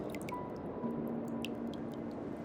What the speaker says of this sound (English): The water is rising faster now. It's flowing in from some unseen place